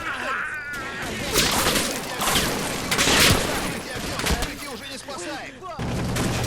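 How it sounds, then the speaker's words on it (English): Machine gun fire in the wargame Combat Mission: Red Thunder, with bursts and cracks of gunfire crackling through a dense, busy battle soundscape, repeated volleys rising and falling over several seconds. "the units that managed to move up all the way to the fence now come under heavy concentrated machine gun fire from the enemy"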